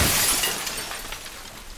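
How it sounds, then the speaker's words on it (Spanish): Car window glass shattering in The Last of Us Part II, a loud crash with scattering shards that taper off over under two seconds, heard alone without talk. "Yo sigo rompiendo cristales, pero en ningún coche hay nada."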